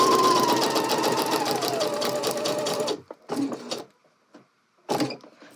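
A sewing machine stitches down to the pocket bag of a garment, running in a fast steady whir for about three seconds, then stopping and giving a few short bursts with pauses between.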